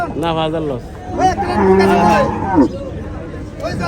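Dairy cows at the Chandimura cattle market moo loudly and drawn-out up close, repeated several times, while people talk and chatter all around.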